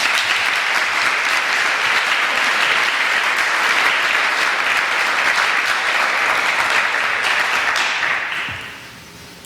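An audience applauds to welcome a speaker to the podium, steady dense clapping that holds strong for about eight seconds before tapering off into room noise.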